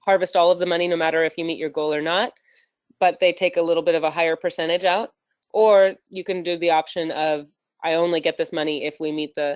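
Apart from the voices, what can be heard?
None of the usual background noises is heard.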